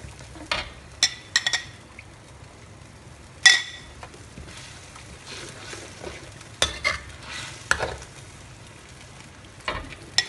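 Stir-frying chicken koi see mee noodles in a hot pan: a steady low sizzle runs throughout, broken by sharp scrapes and clanks of a spatula against the metal, coming in irregular bursts.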